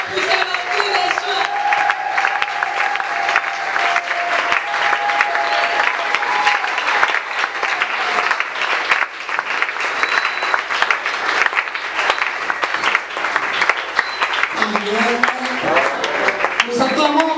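A church congregation claps hands for a servant of God in steady, dense applause that runs throughout, with voices and tonal calls rising over the clapping.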